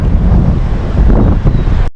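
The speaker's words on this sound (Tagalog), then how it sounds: "Lakas ng hangin mga master." Strong wind roars across the microphone aboard a fishing boat at sea, a loud, steady buffeting rush with low gusty rumble and no voices, continuous for about two seconds.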